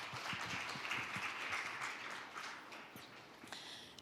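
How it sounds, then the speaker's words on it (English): Applause from a forum audience welcoming a speaker at an ASEAN-Korea ESG event, a moderate, fairly distant wash of clapping that fades out after a few seconds. "Let's welcome her with a big round of applause."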